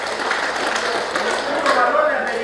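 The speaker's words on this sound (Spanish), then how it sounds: "¡Fuertes los aplausos!" A crowd applauds at a birthday celebration in San José Río Lagarto, Copala. Scattered clapping runs under a loud announcer's voice through the whole moment.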